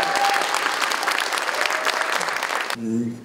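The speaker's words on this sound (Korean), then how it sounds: "이인영 의원님께는 정말 큰 박수를 부탁드리겠습니다." Audience applause at a debate forum on local government law, dense clapping from a crowd filling the room for nearly three seconds, then cut off abruptly as a brief tonal hum takes over.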